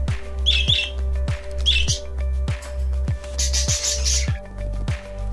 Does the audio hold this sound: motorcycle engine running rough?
no